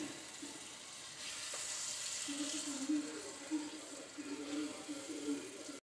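Okra and fried green chillies stirred into masala in a pan, a soft sizzle with scraping stir strokes close by, fairly quiet, with someone speaking over it.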